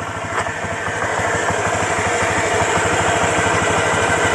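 A Honda Vario 125 scooter engine idles steadily nearby, a low, even putter with a faint high whine above it and no voices.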